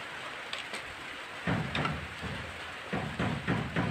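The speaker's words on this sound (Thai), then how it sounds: "ฝนตกพี่น้องเอ้ย" Rain falls steadily outdoors, a broad even patter with a few louder gusts of heavier drops, moderately near and with no voices over it.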